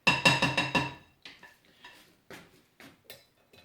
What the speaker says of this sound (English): Dump it into our baking dish.